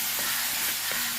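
Kanthari chillies and curry leaves sauté in a hot pan, giving a steady, close, fairly loud sizzle with a faint crackle throughout and no voices.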